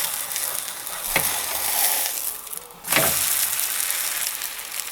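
Liver pancake batter frying in a 25 cm pan, a steady broadband sizzle with two brief louder bursts as batter or the pan is handled, no voices.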